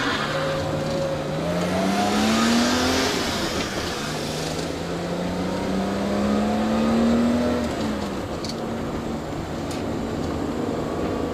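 A 1989 BMW E30 races up the Shelsley Walsh hillclimb, its engine loud and close as it rises through the revs, drops on gear changes and climbs again.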